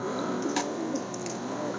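Low, soft cooing from a yellow Lahori pigeon, steady and close, with a continuous murmur of the bird's throaty notes and no talking.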